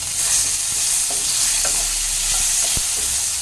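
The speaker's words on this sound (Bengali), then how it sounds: "এই চিংড়িটা আমি এই ফোড়নের সঙ্গে একটু ভেজে নিচ্ছি" Prawns sizzle steadily in hot oil tempered with spices up close, with a half tomato and green chillies added, broken by a few light clinks and scrapes of stirring.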